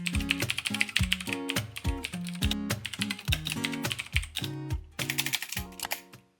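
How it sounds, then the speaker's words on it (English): Quick, steady typing on a computer keyboard, with dense clicking keystrokes in irregular bursts, close and clear without any voices. "So I'm just gonna quickly type in my description"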